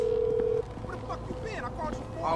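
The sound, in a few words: phone call dialing in a video game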